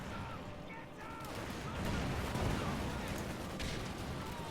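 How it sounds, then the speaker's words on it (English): In Company of Heroes 2, a concussion grenade bursts amid the noisy rumble and gunfire of a snowy winter battle. It lands as a dull, swelling blast in the middle of the din rather than a crisp crack. "Concussion grenade going off."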